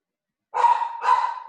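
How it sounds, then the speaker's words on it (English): Dogs barking in a home during a village council special meeting held remotely: after a moment of silence come two short, fairly close barks in quick succession, with no speech over them. "I apologize for my dogs."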